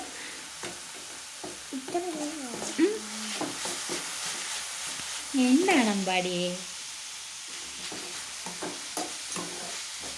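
Utensil scraping and stirring red cabbage in a sizzling pan, a series of clicks and scrapes, with a person speaking briefly in between.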